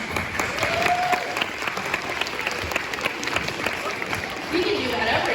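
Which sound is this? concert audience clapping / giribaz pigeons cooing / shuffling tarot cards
concert audience clapping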